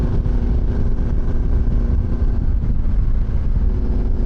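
A Yamaha 750 XTZ motorcycle rides through bends on the road, its engine a loud, steady low rumble under constant wind buffeting against the microphone.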